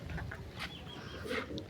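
A red rooster makes a few short, soft clucks close by amid quiet farmyard background noise.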